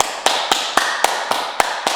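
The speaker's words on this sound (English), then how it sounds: "And now clap your hands together." During a beginner rebounder workout, a pair of hands claps together eight times in a quick, even rhythm, each clap sharp, close and loud, with no talking between them.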